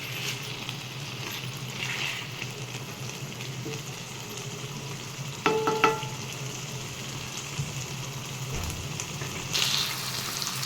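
Brinjal chicken keema curry simmering in a pan on the stove, a soft steady sizzle and bubble with a few brief clinks of a spoon against the pan.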